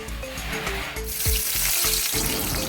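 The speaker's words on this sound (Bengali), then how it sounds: "এরপরে কেটে রাখা পেঁয়াজগুলো গরম তেলে ভেজে নেওয়া হচ্ছে" Chopped onions hiss and sizzle in hot oil in a wok for mutton biryani, a loud steady crackle with occasional stirring knocks, no talking.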